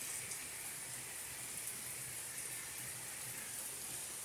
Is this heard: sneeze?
no